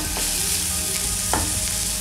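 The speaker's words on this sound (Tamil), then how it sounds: "இது பொன்னிறம் ஆகிற வரைக்கும் வதக்கணும்." Ingredients sautéing in a pan until golden for an Arabian sandwich filling, a loud steady sizzle with a couple of brief scrapes from stirring.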